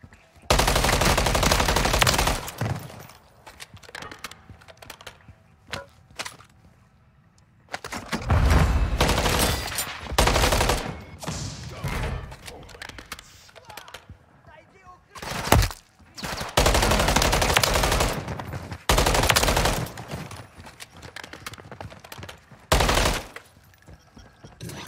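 Video game gunfire from MW3 Zombies, long bursts of rapid automatic fire alternating with short gaps and single shots, loud and close throughout with no talk.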